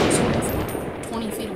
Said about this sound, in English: Sniper rifle